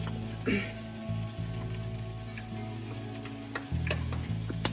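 Garlic sizzling in a pan with honey and lemon pepper, a continuous hissing fry under a low steady hum, close and fairly even with a couple of brief clicks.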